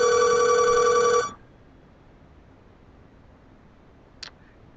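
A telephone rings once with a loud, steady electronic trill lasting about a second before cutting off, leaving quiet room tone and a faint click near the end.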